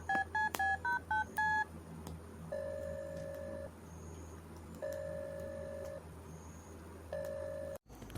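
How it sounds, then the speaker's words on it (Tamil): Keypad tones of a phone number being dialed: a quick run of short DTMF beeps at the start, then three longer evenly spaced tones, clear and close with no talk. "சத்யாவுக்கு இப்போமே ஃபோன் பண்ணலாம்"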